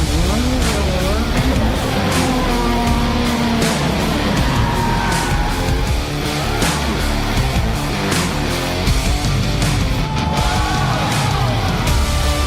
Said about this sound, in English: we had the chairman and CEO himself driving under his pseudonym, Maurizio-san.